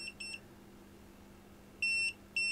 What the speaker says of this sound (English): The closer I'm moving it to where a main socket is, it's starting to beep.